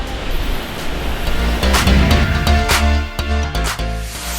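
Black Sea waves washing ashore at Nesebar, Bulgaria: a continuous loud roar of surf and rushing water up close, with no voices over it.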